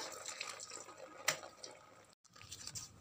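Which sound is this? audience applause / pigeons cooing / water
water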